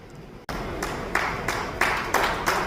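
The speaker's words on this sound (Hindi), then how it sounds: "जोरदार ताली से स्वामी जी का हौसला अफजाई करते रहे हैं हम" An audience at a yoga gathering claps for Swami ji, the applause breaking in suddenly and holding steady as broad crowd clapping with a few louder swells.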